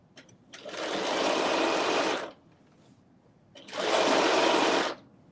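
Sewing machine understitching a dress, two sustained runs of rapid needle stitching about a second and a half each, separated by a short pause with small clicks, close and loud.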